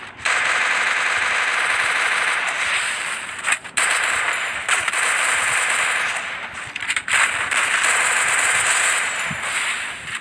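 A long-range gun fires in a mobile shooting game in long, rapid automatic bursts. The loud crackling shots are broken by short pauses and carry on for the whole stretch.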